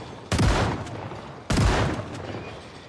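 Two loud, booming shotgun blasts go off in a zombie survival video game, about a second apart, each followed by a decaying rumble.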